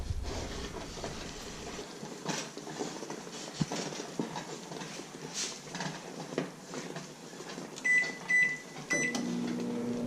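A microwave oven hums steadily while heating marshmallow in a home kitchen, quiet and close, with a few light knocks and clicks and a short run of beeps near the end.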